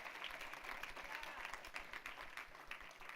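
Congregation applause during a Spanish-language church service, a faint, distant wash of clapping from a crowd, steady throughout the few seconds.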